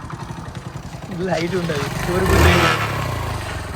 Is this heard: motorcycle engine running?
yes